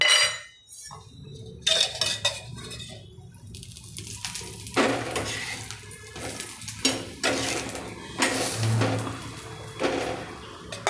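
Oil drizzled onto patra thepla cooking on a pan brings short bursts of sizzling mixed with spoon and pan clinks, in irregular spurts close by.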